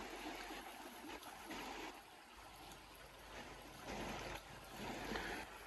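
A river at Santa María Xochixtlapilco, swollen after heavy rain, rushes in a steady broadband wash with gentle surges, heard faintly from the bank.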